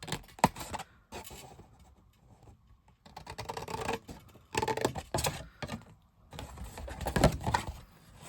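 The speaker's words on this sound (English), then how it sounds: "I'm going to cut up to the middle score line." Scissors cut through scored paper card in short bursts of close crisp snipping and rustling, separated by brief quiet pauses.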